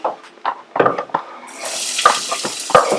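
Onions and shallots sizzling in hot oil in a pan, a crackling hiss with clinks of a utensil stirring, growing brighter and louder in the second half.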